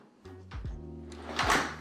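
A heavy two-car garage door in a model home moves along its track with a steady motor hum, punctuated by a few close clunks and a louder scraping burst near the end.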